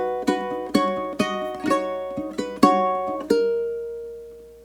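Ukulele playing a bar of the aria Nessun Dorma, seven or so plucked notes and chords in a slow melodic line, close and clear, the last note left ringing to fade out.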